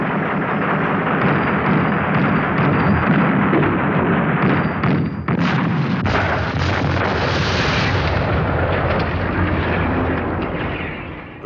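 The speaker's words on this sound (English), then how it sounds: "there were 400 guns to the mile to open a way for the assault" A massed Soviet artillery barrage opens the assault on Berlin, hundreds of guns firing together as a continuous, dense roar of overlapping booms and rumbling blasts that holds loud throughout.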